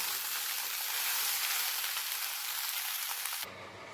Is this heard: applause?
no